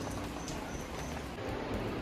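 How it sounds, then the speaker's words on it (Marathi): Steady rain falling outdoors, an even hiss of drops that stays constant throughout with no one speaking. "मस्तपैकी पाऊस पडत आहे"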